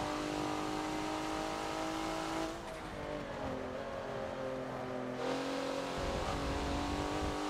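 A Porsche Macan engine races on the Hockenheimring short track in a Forza racing game. It holds a sustained high-pitched roar, dips as it shifts and lifts, then revs back up. The sound is steady and close.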